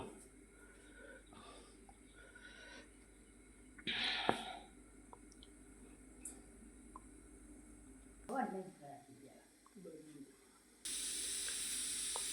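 Pressure cooker on a gas stove cooking sweet potato sheera sounds its single whistle, a hissing burst of steam rising mid-clip, with speech and kitchen noise around it and a loud steady hiss at the end.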